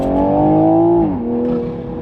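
A 2021 Toyota Supra accelerating, its engine note rising as a loud, smooth tone that drops suddenly midway at a gear change and then continues, heard from inside the car with no talking.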